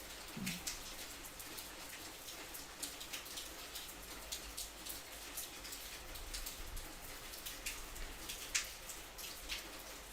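Rain falls outside in a soft, steady patter of drops, with scattered individual hits and occasional louder splashes over a quiet continuous hiss.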